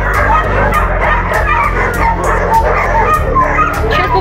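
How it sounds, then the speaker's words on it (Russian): Several dogs bark and whimper close by at a farm housing many cats, with yips and whines overlapping continuously through a dense, loud mix. "И чтобы собаки не нервничали, сейчас попробуем."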